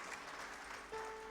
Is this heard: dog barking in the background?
no